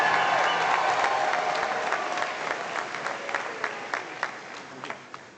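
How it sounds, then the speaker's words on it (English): A large crowd at a Final Four pep rally applauds the spirit squad and dance team, with steady, dense clapping and light cheering that slowly tapers off over several seconds. "please give them a round of applause"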